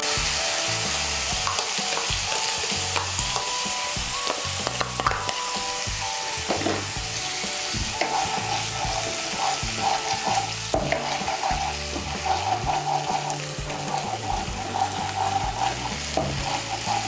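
Ground tomato paste sizzles in hot oil while being stirred briskly, a steady close crackle broken by repeated scraping and spatula strokes against the pan, with no speech, during cooking of an egg and coconut curry.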